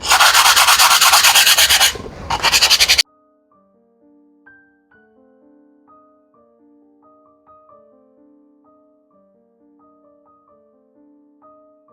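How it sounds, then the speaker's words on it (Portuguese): Sandpaper lightly sands hardened putty on a miniature recycled-can roof, making a steady, close, raspy rubbing for about three seconds with a brief pause before soft music takes over. "Agora eu vou pegar uma lixa e vou dar uma leve lixada."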